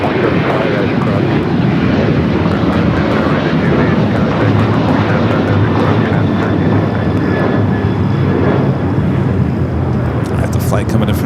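Jet airliner on approach landing at Los Angeles LAX airport, a loud continuous engine roar filling the whole stretch, close and steady without pause.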